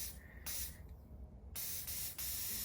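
A coral rock under a high-voltage electromagnetic test gives off a sharp electrical sizzle. The crackling spray comes in close, loud bursts that cut in and out in quick succession, with brief quieter gaps between them.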